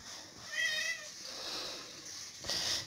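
A house cat meows indoors during laundry chores, a faint drawn-out meow followed by softer rustling and a brief sharper sound at the end, no talking over it.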